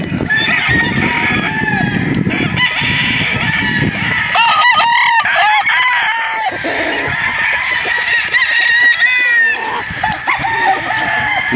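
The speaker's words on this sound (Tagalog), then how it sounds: "Ito yung mga sample ng cock." Gamecocks at NUDC Game Farm, several roosters crowing loudly and close, overlapping with clucks and squawks in quick succession.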